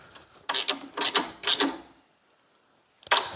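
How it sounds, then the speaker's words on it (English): A dust collection attachment on a DeWalt 779 miter saw is tightened down in three quick ratcheting bursts, a pause, then one more, close and fairly quiet. "So we'll tighten this all the way down now."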